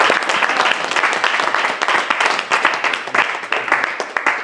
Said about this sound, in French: On acclame les Seigneurs pour les bénédictions.